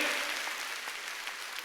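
Congregation clapping at an Easter Sunday church service, a dense, even wash of applause that fades gently without a break over the short span.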